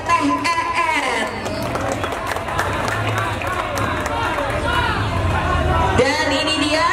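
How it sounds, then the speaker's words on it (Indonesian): A crowd applauds the team captain at a convoy celebrating Persib Putri's Liga 1 2019 title, loud, continuous clapping mixed with cheering and babble of voices throughout. "berikan tepuk tangan"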